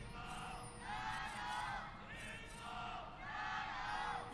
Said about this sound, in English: Crowds will begin to cheer out for their favorite teams